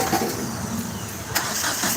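A car engine cranks and then catches after fuel pump work, with a steady loud broadband roar throughout and a sharp rise near the middle, recorded close up, with no clear speech.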